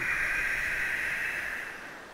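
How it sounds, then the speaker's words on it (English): Ujjayi or tiger breath, a steady, breathy hiss pushed through the nose and the back of the throat, held for about two seconds and slowly fading, close and quiet. "You're breathing through your nose and hissing the breath at the back of the throat."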